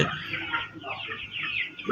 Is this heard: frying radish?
no